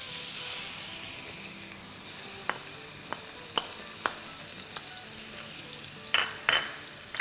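Crushed garlic frying in hot oil for chicken chilli gives a continuous close sizzle, punctuated by sharp ticks and a few clanks of a utensil against the pan near the end.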